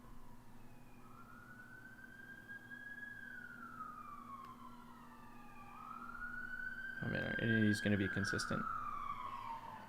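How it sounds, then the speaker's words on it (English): A wailing siren rises and falls steadily in the distance, with someone speaking briefly over it near the end. "sorry for the sirens in the background"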